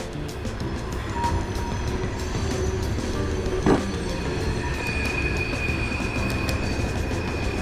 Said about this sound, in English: there's a train right there if you didn't know.